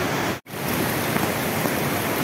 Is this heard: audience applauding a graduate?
no